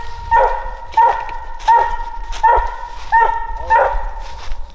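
A Walker Coonhound bays at a raccoon up a tree during a Pennsylvania coon hunt, giving six loud, evenly spaced barks about every 0.7 seconds, close by and with no talk over them.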